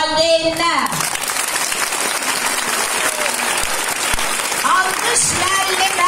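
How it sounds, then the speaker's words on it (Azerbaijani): Loud, sustained applause from a crowd at a school's last-bell ceremony fills the whole stretch, with voices calling out over the clapping at the start and again near the end. "Alqış valideynlər!"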